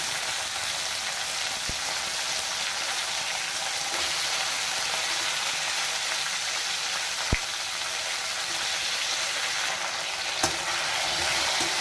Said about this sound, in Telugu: ఇదిగోండి బాగా ఫ్రై అయ్యాయి ఇది ఇందులోకి ముందుగా కట్ చేసి పెట్టుకున్న ఒక మూడు టమాటాలు వేసుకుంటాను